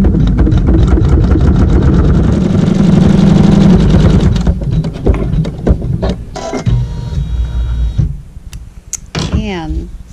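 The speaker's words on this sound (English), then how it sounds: "I'm going to sew my seam." An embroidery sewing machine stitches a seam with neutral thread through fabric, its rapid mechanical stitching loud and steady for about four seconds. It then turns choppy and stops, while a person talks over and after it.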